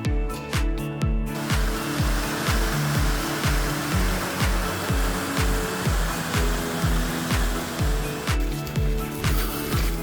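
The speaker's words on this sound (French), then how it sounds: "On entend l'eau du ruisseau, du torrent." Steady rushing water of a mountain stream in woodland on the way to a waterfall, a constant broad hiss close by, overlaid by regular thudding footsteps walking along the trail.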